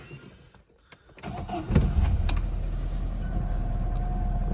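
A car with a broken key is started with a screwdriver. After a quiet moment there is a short cranking, then the engine catches and settles into a steady nearby idle.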